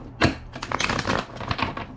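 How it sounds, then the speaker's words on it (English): Tarot cards are shuffled by hand in a quick burst of dry, riffling paper flutters and taps, close and fairly quiet, with no voice over it. "Two more shuffles."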